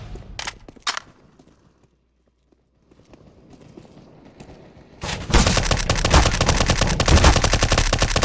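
Counter-Strike: Global Offensive gunfire in a shotgun match: a couple of sharp shots early, a quiet gap, then a loud sustained burst of rapid overlapping firing that fills the last few seconds.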